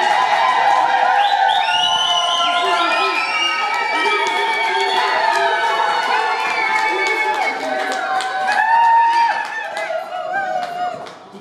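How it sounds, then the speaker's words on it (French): Guests at a civil wedding ceremony give the newlyweds a loud, sustained cheer with whoops and shouting voices that fills the room before tapering off at the end. "Vous pouvez les applaudir."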